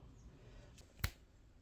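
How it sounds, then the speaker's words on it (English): One sharp, quiet finger snap sounds close by in a garage, a single crisp click against faint background hiss. "Well, that was a terrible snap."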